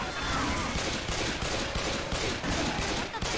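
Video game gunfire in a dense, loud, continuous volley of rapid automatic shots filling the whole moment, with no clear pauses.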